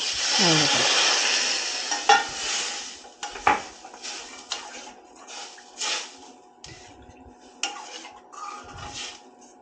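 Second coconut milk is poured into a pan of prawn curry, with a brief pouring splash followed by spoon scrapes and clinks against the pan and a soft simmer, close and moderately loud.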